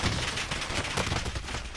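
Rapid gunfire during a nighttime game of shooting at people on a roof, a dense continuous crackle of shots lasting throughout, loud and close with no clear gaps.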